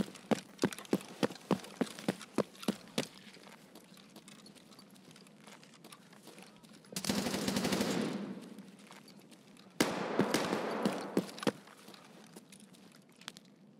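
Gunfire in the video game Escape from Tarkov: rapid bursts of sharp shots, some sustained automatic fire in two longer volleys, with footsteps and clattering between them.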